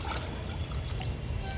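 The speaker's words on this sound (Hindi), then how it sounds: "चिकन का पानी पूरा झड़ जाएगा।" Water trickles and patters steadily off freshly washed raw chicken pieces in a cooking setup, a close, continuous dribbling wash of sound with no voices over it.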